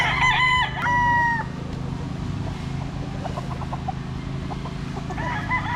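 A rooster of a prized fighting-cock line crows loudly and close, with a long sustained call near the start and another crow rising at the end over steady farmyard background noise.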